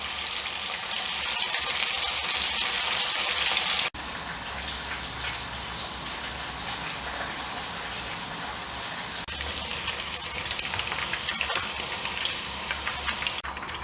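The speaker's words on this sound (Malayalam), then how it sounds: "ഇത് ഒട്ടിപ്പിടിക്കാതെ ഇങ്ങനെ സെപ്പറേറ്റ് തന്നെ ഇട്ട് ഫ്രൈ ചെയ്തെടുക്കണം കേട്ടോ" Chicken pieces for dragon chicken deep-fry in hot oil with a steady, dense sizzling hiss, briefly interrupted midway, then continuing loud and close.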